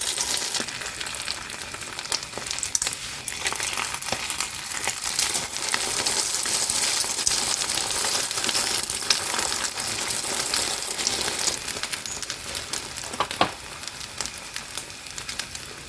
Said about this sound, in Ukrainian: Смажиться дуже швидко, дуже швидко.